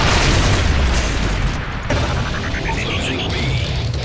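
A Predator missile strike explodes in a video game: heavy, rumbling booms and blasts fill the whole stretch, loud and close, with faint voices mixed underneath.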